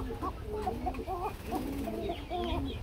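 Pigeons cooing repeatedly in short, overlapping bursts, fairly close and soft, from several pairs kept together for sale.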